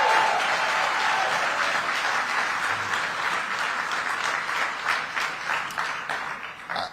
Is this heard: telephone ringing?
no